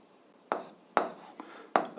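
A pen scratches out physics problem data on paper in three or four short, close strokes, separated by quiet pauses.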